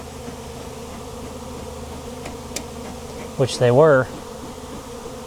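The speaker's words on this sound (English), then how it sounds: "There's a pile of bees over here." A constant low buzzing hum of a massive wild bee swarm at a barn fills the background, with a single voice speaking briefly near the end.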